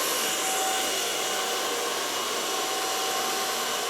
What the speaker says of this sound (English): Start blower drying from the neckline and building up to the front.